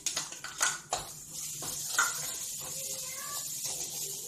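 Ground onion paste sautés in a pan, with a soft sizzle under sharp clinks and scrapes of a spoon against the metal, louder at first and then settling.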